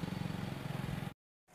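A Suzuki Karimun Estilo engine runs at idle with the hood open, a steady close pulsing rumble that cuts off abruptly into brief silence before resuming faintly.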